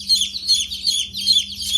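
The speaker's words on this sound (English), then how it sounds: "These are going to be hens that lay eggs, so they're all girls." Young egg-laying hens being picked up and handled in sawdust let out rapid, high, repeated peeping chirps in a steady, close, fairly loud run.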